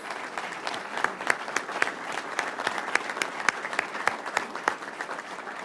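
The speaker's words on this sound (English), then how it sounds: "If you could just give them, as well as all of the law enforcement officers in Florida watching right now, a round of applause" Applause for sheriffs and police officers at a Florida press conference with Governor DeSantis and the Polk County sheriff, a modest room of people clapping with distinct sharp claps standing out over a steady patter.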